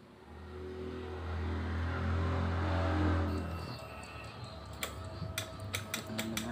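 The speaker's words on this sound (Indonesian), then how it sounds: "Lanjut kita coba hidupkan mesinnya." A Honda Supra X 125 injection motorcycle engine with a weak battery cranks and catches, a low mechanical churn rising then fading into a light idle with sharp ticking clicks near the end.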